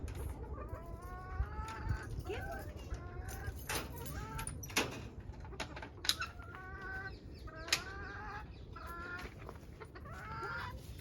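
Hens clucking steadily at close range as they are let out in the morning, with brief harmonic cackles and calls over a low rumble; a person speaks softly to them now and then.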